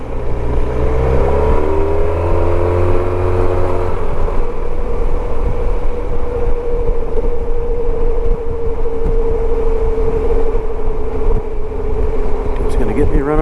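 A Honda SilverWing scooter on a commute, its engine humming steadily with a rising note early on, then a constant drone under heavy wind rush, with a rider's voice talking over it.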